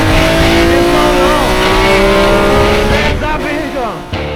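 A racing car on the Tour Auto rally roars past with a loud, sustained engine drone that rises and falls in pitch as it accelerates and shifts, close by, with tires squealing briefly near the end.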